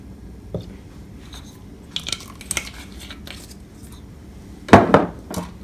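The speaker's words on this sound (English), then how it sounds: "Stir it now." A spoon stirs banana bread batter in a bowl, giving scattered soft clinks and scrapes against the bowl, with a louder cluster of knocks near the end.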